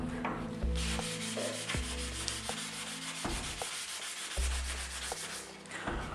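Close, rhythmic scraping of wet-and-dry sandpaper rubbed back and forth over a Cervelo R5 bike frame to remove old paint, repeated strokes with short pauses between them.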